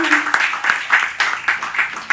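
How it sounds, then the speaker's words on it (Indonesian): Audience applause in a church service, a group clapping in a steady, fairly close rhythm over a couple of seconds, with a voice briefly heard at the start. "Tepuk tangan dong"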